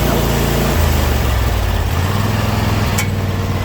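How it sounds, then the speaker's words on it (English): A Troy-Bilt zero-turn mower with steering-wheel control runs loud and close, its engine droning steadily with a low, throbbing rumble that shifts pitch partway through. "We'll go ahead and fire it up and do a little test run"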